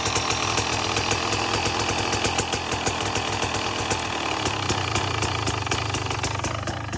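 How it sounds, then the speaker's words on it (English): A 300 XC dirt bike engine idles close by with a steady, loud, rapid two-stroke putter and a slight shift in tone midway through. "I actually just rolled the throttle forward just ever so slightly."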